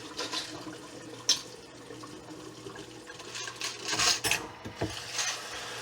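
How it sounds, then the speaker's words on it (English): Tap water runs into a sink while brass rifle cartridges are rinsed, a steady low splashing with occasional louder gushes and light metallic clinks of cases shifting. "I'm going to rinse this 2 or 3 times."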